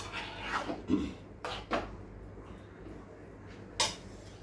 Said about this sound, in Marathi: मी मिक्स करून घेते मीठ टाकलेलं